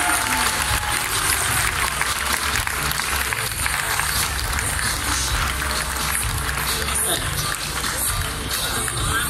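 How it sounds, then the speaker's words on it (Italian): Sustained applause from an audience honouring the teachers at the award ceremony of a national hackathon in Terni, a dense, loud wash of clapping filling the whole stretch with faint crowd murmur beneath. "Un applauso a tutti i docenti che hanno servito i ragazzi."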